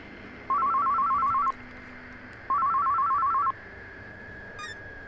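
A telephone rings twice in the Murder is Game Over detective game, each a one-second warbling electronic trill separated by a pause, over a low ambient hum.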